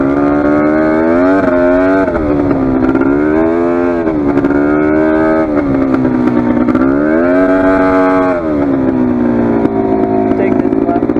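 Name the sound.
Polaris 400 ATV engine while riding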